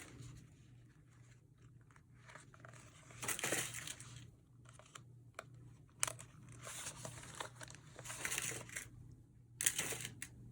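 Paper wallet pages being paper-clipped into an altered junk journal book, giving soft crinkling, rustling and sliding paper handling sounds with a few sharper clicks, close and fairly quiet, with no talking.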